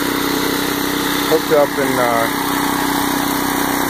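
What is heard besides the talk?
lawn mower engine running on charcoal wood gas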